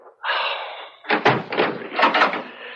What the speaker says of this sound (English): Open the door, Skye. It's Harry